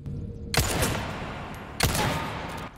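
Two heavy gunshots in Resident Evil 4 Remake, each a loud crack followed by a long, booming decay. The shots are spaced over a second apart against steady game ambience.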